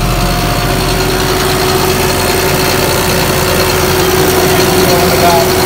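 A John Deere 5075E tractor runs steadily while driving a Vans 85-gallon PTO sprayer, its loud, constant engine drone and whine close by with no change in pace throughout.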